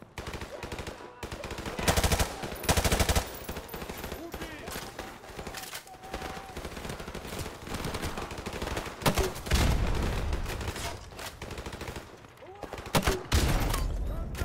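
Automatic and rifle gunfire in a Call of Duty: Modern Warfare Remastered battle, bursts of shots crackling in clusters at moderate volume amid game noise, with a voice talking at times.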